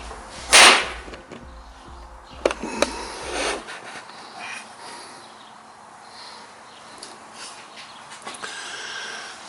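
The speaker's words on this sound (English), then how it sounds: "That noise you saw was my square falling down." A sharp clattering crash near the start as a metal carpenter's square drops and hits the floor, a few lighter knocks after, then quiet room tone.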